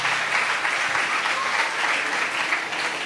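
A church congregation at a Spanish-language service bursts into loud, continuous applause, a dense wash of clapping for the whole moment.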